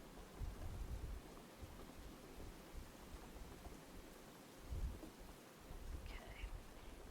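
Soft, steady rain patters throughout under low, rolling rumbles of distant thunder that swell a few times, all faint and without clear speech.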